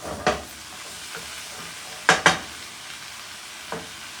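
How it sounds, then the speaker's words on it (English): A utensil scrapes across a frying pan while cooking paneer fajitas, giving a few separate short scraping strokes, one near the start and a close double stroke midway, over a quiet background without talk. "I am going to, first of all, scrape up everything, all the goodness that I need in order to have it here"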